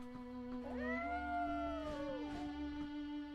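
A white cat in the Déraciné video game lets out a drawn-out, rising and falling meow over a steady low electronic hum, close and moderately loud with no talking.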